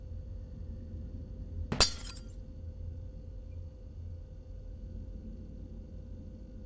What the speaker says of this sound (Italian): Ha rotto il vetro.